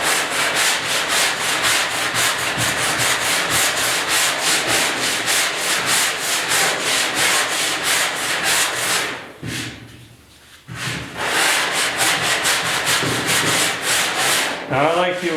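A sanding block rubs back and forth over the body filler on the bed of a 1972 Ford 4x4 short box truck, with steady rhythmic abrasive strokes that are close and loud and pause briefly near the end.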